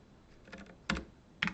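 Keys on a computer keyboard are pressed a few times, soft taps followed by two sharper, louder clicks spaced apart, close up with no one talking.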